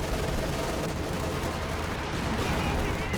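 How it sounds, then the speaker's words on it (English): Artillery fire in Company of Heroes 2 as Wehrmacht guns shell American units, a dense continuous rumble of overlapping explosions and gunfire at steady loudness. "More artillery coming in on MisterEasy here."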